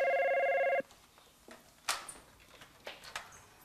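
An electronic telephone ring sounds loudly for under a second, then cuts off, leaving quiet room noise with a few soft knocks and clicks, in a Spanish-language TV drama scene.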